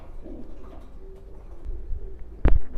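Baby racing pigeons coo softly in a loft amid low rustling and background murmur, with a sudden loud thump or flap near the end.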